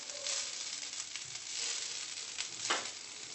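Rice boiling in a pot over a fire gives a soft, steady bubbling hiss with faint pops and crackles, quiet and alone.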